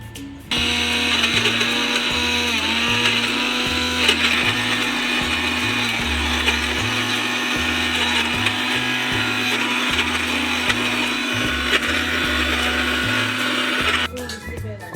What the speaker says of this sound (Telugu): ముక్కలు చేసుకున్న బీట్రూట్, యాపిల్, క్యారెట్ని మిక్సీ జార్లో వేసుకొని గ్రైండ్ చేసుకుందాం.